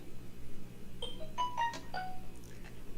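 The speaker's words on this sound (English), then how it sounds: "My phone's just now turning on because it's been on charge all this time." Mobile phone powering up after sitting on charge, playing a short bright start-up chime of several rising electronic tones near the microphone against a quiet room background.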